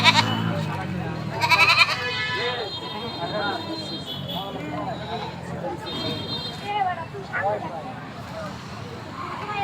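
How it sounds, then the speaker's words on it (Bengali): Goats bleat repeatedly at a busy cattle and goat market beside a road bridge, with several calls rising near and far over a constant babble of people talking. "হচ্ছে ডান পাশের সেই ছাগল"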